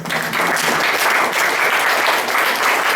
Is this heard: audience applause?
yes